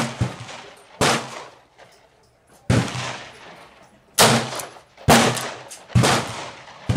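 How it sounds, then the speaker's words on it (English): A .38 Special revolver fires 213-grain loads as four sharp, loud gunshots spaced about a second apart, each a crisp crack with a short echoing tail. "We'll give it 4 shots."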